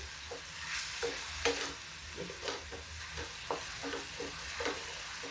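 Onion and masala fry in a little oil, a soft sizzle running under a steady series of quiet spoon scrapes and stirs, fairly faint and close.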